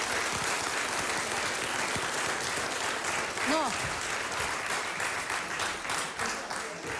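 Studio audience applause on a Slovak–Czech TV quiz show, a continuous wash of clapping lasting several seconds with a host's voice talking over it.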